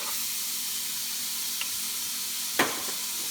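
Onions and ginger sizzle and fry in a pan for coconut-milk shrimp with malunggay, giving a steady close hiss with a brief clink partway through.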